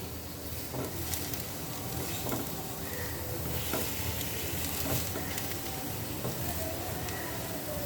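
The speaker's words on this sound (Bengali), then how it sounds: "তার জন্য এই টমেটোগুলো এমনি তেল দিইনি, শুকনো প্যানের মধ্যেই আমি এগুলো" Tomatoes roast in a dry pan with no oil for a momo chutney, giving a continuous crackling sizzle with scattered pops and occasional scraping stirs, steady and close throughout.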